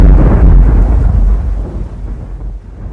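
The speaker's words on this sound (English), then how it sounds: "There was just a bit of thunder here." Thunder rumbles in a deep, loud roll that is strongest at the start and slowly fades, heard alone with no voices.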